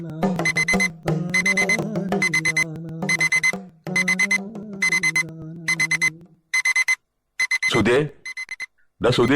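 An electronic alarm clock beeps loudly in rapid repeated bursts, close by, with the pattern shifting and breaking up toward the end.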